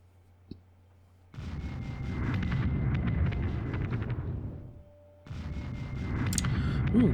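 A bombing raid on Hamburg in the WarPlan war game comes through as two long bursts of rumbling, crackling explosions and artillery-like blasts, fairly loud, split by a short quieter gap, with a single click at the start.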